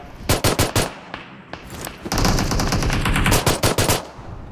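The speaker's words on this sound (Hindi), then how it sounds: "उनको देखो पिस्टल से कैसे मारते हैं।" Rapid bursts of pistol gunfire in the BGMI battle royale game, loud repeated cracking shots in quick clusters with a short pause, close and alone.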